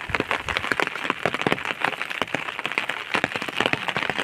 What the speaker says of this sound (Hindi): काफ़ी तेज़ बारिश है, जैसे कि आप छाते की आवाज़ से महसूस कर सकते हैं